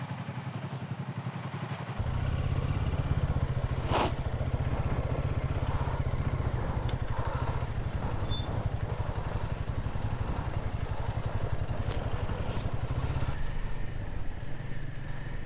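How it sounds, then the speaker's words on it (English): Several motorcycles idle together in freezing cold at a winter rally, one bike fitted with a ski, a steady low engine drone that starts abruptly after a quiet opening and holds throughout, with faint clatter on top. "now all of the bikes are turned on, the engines are running"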